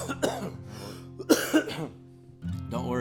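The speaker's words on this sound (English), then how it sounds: "Don't worry, that's a singing cough." A person coughs a few times, sharp bursts mixed with throat clearing, close to the mic, with brief voiced sounds between the coughs.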